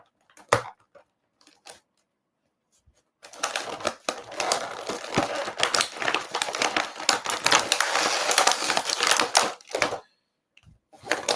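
Rustling and crinkling of plastic and cardboard toy packaging being torn open, a steady busy crackle lasting several seconds after a few brief handling taps, close and fairly loud with no talking.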